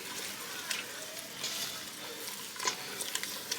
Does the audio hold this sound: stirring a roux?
yes